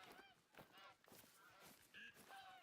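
Geese honk in the hunting game TheHunter Call of the Wild, set in Finland: a few faint, scattered calls under low background noise, ending in one sharper, louder honk.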